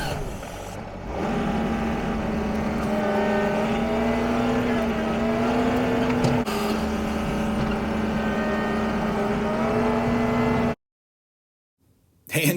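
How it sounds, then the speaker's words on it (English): An old tractor engine drones steadily and loud while spreading a small load of aggregate, holding a constant pitch for about ten seconds before cutting off abruptly into silence. "A little load like that ain't nothing to spread around with the tractor"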